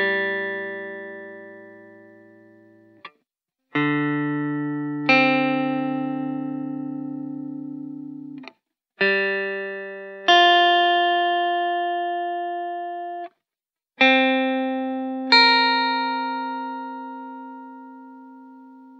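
Guitar picking flat-seventh intervals across all strings: pairs of clean notes, a lower root followed by the higher seventh, each ringing and decaying, with brief silences between the string pairs.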